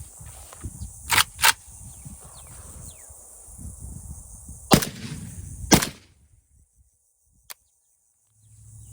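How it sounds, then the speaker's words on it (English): Suppressed shots from a PSA Krink fitted with a Lahar-30K suppressor, four sharp outdoor reports in two pairs over insect chirping, followed by quiet and one distant crack. "for the short gun, we use the short suppressor, Lahar-30K on a PSA Krink"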